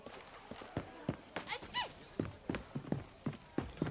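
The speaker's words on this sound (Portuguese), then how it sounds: "Cavalo." A horse in Far Cry 6 gallops with rhythmic, close hoof clip-clops, and a brief whinny-like call sounds partway through.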